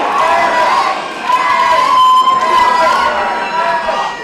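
A dense arena crowd at an amateur fight night cheers and shouts loudly and continuously, a roaring wall of voices swelling and easing over a few seconds.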